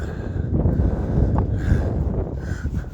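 Wind buffets the microphone in a constant, loud low roar on a seaside pier at very low tide, gusting slightly stronger now and then, with no one talking.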